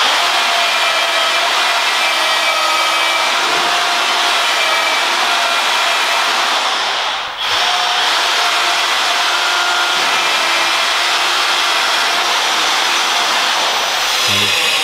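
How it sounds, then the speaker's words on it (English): A large SDS drill with a big bit bores through wood in a warehouse, a loud, steady high-pitched whine running continuously with one brief dip midway. "drill to drill through wood, so"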